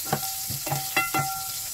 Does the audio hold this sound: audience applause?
no